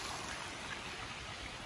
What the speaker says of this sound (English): Here's the water feature.